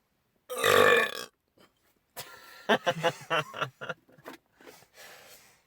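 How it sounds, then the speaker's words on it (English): One loud, drawn-out burp about a second long erupts alone, followed after a pause by chuckling, gasps and snickers from people nearby. "I burped."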